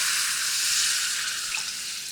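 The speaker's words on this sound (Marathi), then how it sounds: "तर यामध्ये पाणी घालूयात खूप पाणी घालायचं नाही" Water poured into a besan mixture in a hot pan for pithla or zunka, producing a steady hissing sizzle that fades slightly toward the end.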